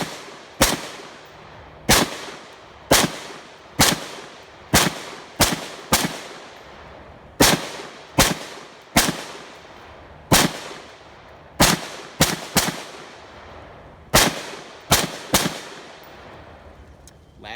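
Armalite AR-180B rifle fired with a Thermold 30-round magazine outdoors, with about twenty loud, sharp single shots at an uneven pace, each followed by a short echoing decay.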